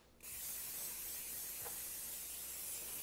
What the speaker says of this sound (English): let's spray that